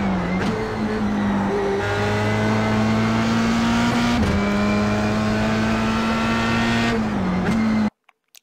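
A Formula 3 race car in a racing game at Watkins Glen holds a steady, high engine whine through the gears, with brief pitch dips at upshifts, loud and continuous before cutting out abruptly.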